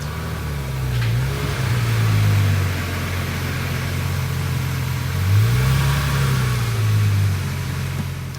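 Car engine idling and revving as the car creeps forward into a CarCapsule garage bubble, with two rising-and-falling throttle swells over a steady low rumble at close range.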